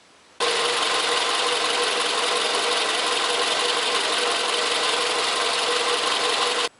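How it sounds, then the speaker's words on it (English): A car engine idles steadily and close up, a constant even drone that starts abruptly and cuts off abruptly after about six seconds, with no voices over it. "start the engine and leave it at an idle"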